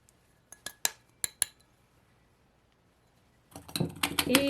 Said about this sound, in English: Now we're going to put it in our jar.